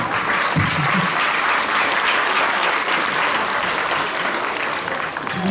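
Sustained applause from a crowd at a pledge ceremony for the Victoria Jaworzno football academy, honoring the club staff; steady, dense clapping fills the whole span at an even, loud level.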